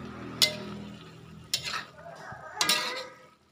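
Spicy peanuts stir-fried in a pan, with a few sharp scraping strokes of a spatula against the metal over a low background hiss, three distinct bursts spaced about a second apart.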